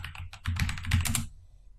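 Quick keystrokes on a computer keyboard as a command-line command is typed, a fast burst of clicky taps lasting about a second, close and clear, then silence.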